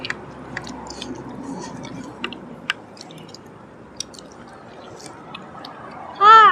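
Close, soft wet chewing of medium beef tenderloin steak with spicy jaew dipping sauce, in a steady rhythm with small clicks, ending in a brief louder chirp.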